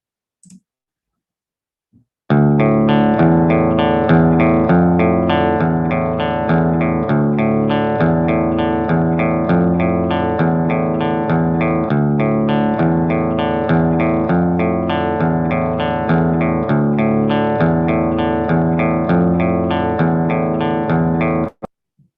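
A looping instrumental sample for a hip hop beat plays steadily, rich harmonic tones with a repeating rhythmic pulse, loud and continuous after a brief silent start.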